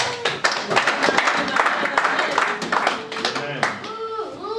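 A church congregation claps loudly and rapidly together in praise of the Lord, a dense burst of applause mixed with shouts and voices throughout.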